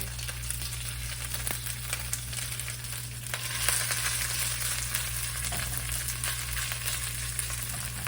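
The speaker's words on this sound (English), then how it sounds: "So I got my rice, crisp it up in the pan, and then I'm gonna put it right back in." Cooked rice crisping in a hot frying pan for a mixed rice bowl, giving a steady close sizzle and crackle with a few stirring scrapes and no talking.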